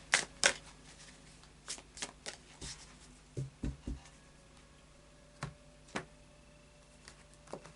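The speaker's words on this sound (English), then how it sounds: "And a final shuffle of the Anarchy Tarot." Anarchy Tarot cards are shuffled by hand, a series of crisp irregular flicks and soft taps, close and fairly quiet, with pauses between bursts.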